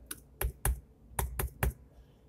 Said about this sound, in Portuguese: Vou digitar aqui um CEP.